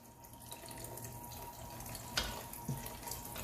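Beef broth pours into a braising pot of beef cheeks and malt soda, a faint liquid trickle with a couple of soft splashes near the end.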